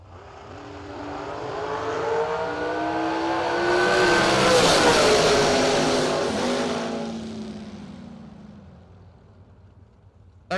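Drag racing engines launch and scream down the strip, swelling from a low rumble to a loud, dense roar at mid-run before fading into the distance, with no voices.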